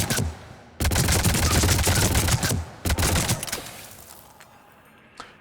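Gunfire at a weapon range in Mass Effect 3, two loud bursts of rapid automatic shots close by, separated by a brief pause, then trailing off into quieter ambience.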